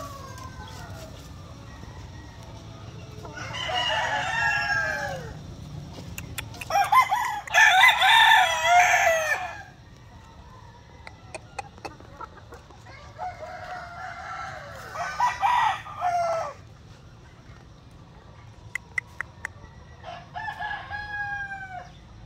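Asil gamecock roosters crossed with Sweater and Kelso lines crowing in several separate long calls, some near and loud, others fainter, with quiet stretches between them.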